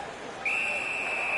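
A referee's whistle blows in the NHL 19 ice hockey video game during a Flyers power play, one sustained shrill blast starting partway in over faint arena crowd noise.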